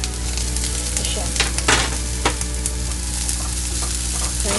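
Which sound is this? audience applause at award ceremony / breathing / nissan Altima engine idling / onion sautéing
onion sautéing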